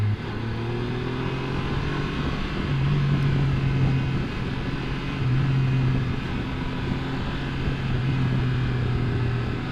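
A car engine held in second gear while braking on a winding country road, a steady low drone with slight swells in pitch, continuous and close throughout with no talking.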